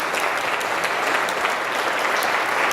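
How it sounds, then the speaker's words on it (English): Steady, full audience applause for a food-summit panel on farms, soils and health, a dense even wash of clapping that holds at the same level throughout. "Let's give our panel a round of applause."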